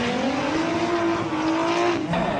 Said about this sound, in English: I'm going to show you how to drift in Gran Turismo